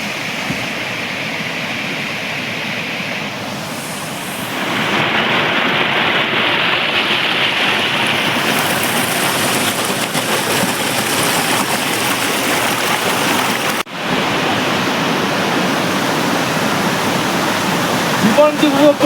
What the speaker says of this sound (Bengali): জাস্ট এই ঝর্ণাটা একবার দেখুন।